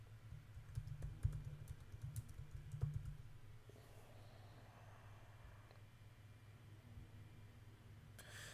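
Quick bursts of keystrokes on a computer keyboard as a name is typed into a form, close and fairly quiet, then fading into faint room hiss with a few stray clicks and no speech.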